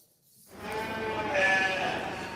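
Sheep on an organic milk farm in northern Greece bleat in one sustained, wavering call that swells after a brief silence and carries on loudly to the end, close to the listener.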